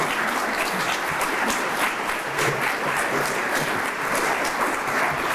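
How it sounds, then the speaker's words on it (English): Sustained applause from a large audience at a membership meeting, dense and even clapping that continues without a break. "I hope you'll join me in giving a round of applause for that"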